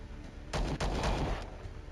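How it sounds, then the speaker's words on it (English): Return gunfire in the Star Traders space trading game, a pair of sharp close shots followed by a short burst of rapid reports, loud against a low steady background. "See how they like my return fire."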